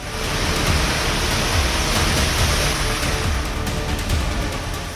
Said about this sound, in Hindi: अब तेज बारिश की तस्वीरें गाजियाबाद की हैं।